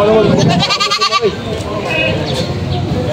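Goats bleat in quavering bursts near the start amid a noisy goat market scene in Padre Garcia, Batangas, with people talking over much of it.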